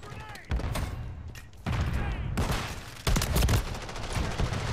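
Shotgun gunfire in a video game, a few heavy blasts amid continuous loud game noise and rumble, with a voice talking over parts.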